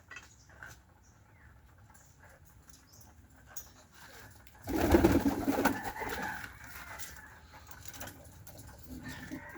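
Pigeons, including Chinese chicken crossbreeds, cooing softly nearby, with a louder burst of fluttering and cooing midway before it settles to faint calls again.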